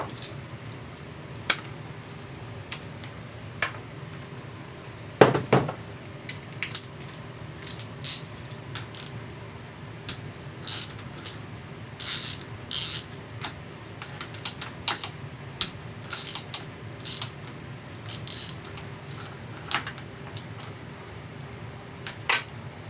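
Close, irregular metallic clicks and taps ring out while bolts are worked loose from the reverse shift arm of an AX15 manual transmission on the bench, with scattered short knocks and quiet gaps between them.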